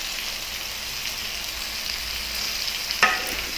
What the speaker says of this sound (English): Now add 1 strand of curry leaves.